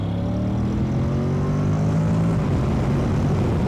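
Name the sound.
Honda NC750X motorbike accelerating from low speed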